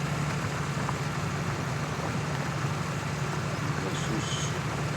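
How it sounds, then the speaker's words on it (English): A New Holland tractor ploughs a field in Farming Simulator 19, with a steady, loud engine drone and broadband rumble that stays even and continuous, without talk. "It's ploughing well. It's a decent tractor."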